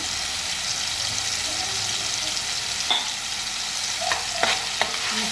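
Turmeric and red chili powder being stir-fried in a pan for a fish curry, a soft steady sizzle with a few sharp scrapes and taps of a spoon toward the end, close and alone without talk.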